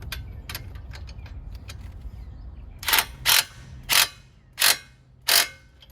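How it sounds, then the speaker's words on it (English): A ratchet tightens a lowering spring part on a 2022 Toyota Camry L during a suspension install, giving five distinct loud clicking bursts in a steady rhythm after a stretch of quieter ticking and low background rumble. "And then you just hold this, tighten this real quick"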